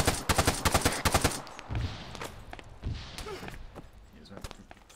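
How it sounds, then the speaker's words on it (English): Video game firefight with bursts of gunfire and smoke rounds being shot: a dense rapid volley opens loud, then scattered single shots and thuds follow more distantly, with voices talking over the action. "They're throwing grenades. Pointing Mike. Shooting out smoke rounds for us."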